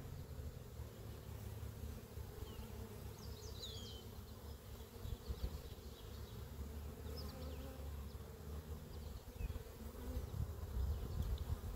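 Honey bees buzz around an open garden beehive in cold weather, a soft, continuous swarm hum with individual bees droning past close by.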